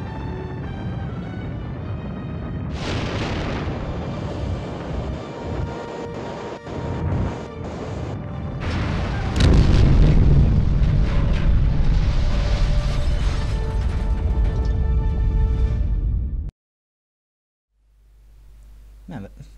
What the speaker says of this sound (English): That's a pretty shitty rocket if it didn't even lift off properly.